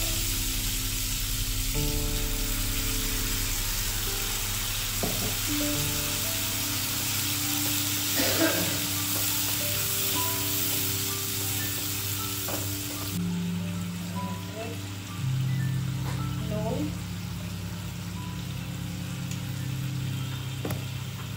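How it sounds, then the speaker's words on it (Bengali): Spices sizzle steadily in hot oil in a home kitchen where boal fish is being cooked, with occasional stirring scrapes and clinks over a continuous frying hiss and a low background hum. "তেলটা একদম গরম হয়ে গেছে, কিছু মারবো, রেখে মশলাটা দিয়ে দেবো।"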